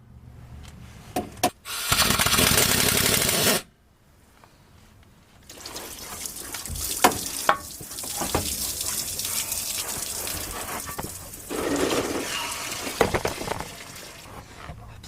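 Coolant gushes from an engine block after its plug is pulled, a loud rushing pour for about two seconds, followed by quieter dribbling and splashes.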